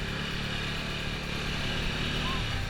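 A scooter rides close by on a mountain road between Gangtok and Zuluk, giving a continuous buzzing engine drone that holds steady through the whole moment.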